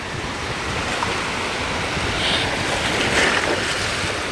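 Ocean waves wash steadily onto a rocky stretch of Boracay beach in warm, choppy weather, a continuous close surf roar with light wind noise and no voices.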